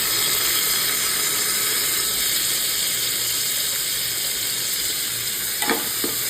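Chopped tomato hits a hot pan of cooking moong dal, raising a loud, steady sizzle and frying hiss throughout, with a couple of brief scraping stirs near the end.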